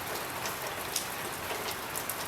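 Steady rain patters and hisses outdoors on a cold, wet day at a maple syrup boil, an even wash of drops with occasional sharper drips close by, with no voices.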